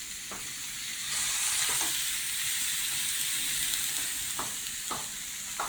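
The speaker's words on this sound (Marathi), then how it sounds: "ही भाजी मी परतून घेतली आहे" Elephant foot yam sizzles steadily in hot oil, punctuated by several sharp clicks of a spoon stirring the pan.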